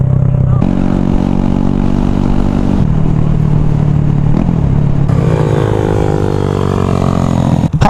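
A Honda Grom motorcycle rides off road, its engine droning steadily and close with shifts in pitch as the throttle changes, while a rider talks over the running engine.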